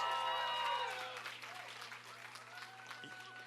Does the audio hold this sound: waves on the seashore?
no